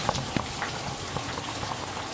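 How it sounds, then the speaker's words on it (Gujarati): Heavy rain falls on farmland beside a flooded river, a steady close patter with scattered sharper drops standing out. "ફૂલ વરસાદ ચાલુ થઈ ગયો હે"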